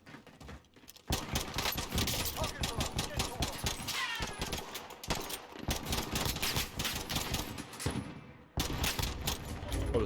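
Rapid starting-pistol fire in the Call of Duty: Warzone video game: loud, closely spaced shots in near-continuous bursts, broken by a couple of short pauses.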